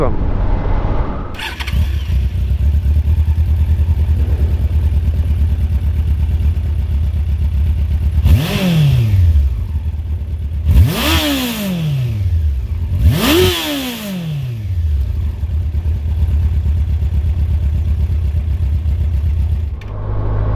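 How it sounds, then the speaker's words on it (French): A sport-derived engine on its stock stainless steel exhaust idles steadily from start to finish, broken by three sharp revs that climb and fall back, fairly quiet and subdued overall, with no speech. "Aujourd'hui avec l'échappement d'origine, forcément il fait assez peu de bruit."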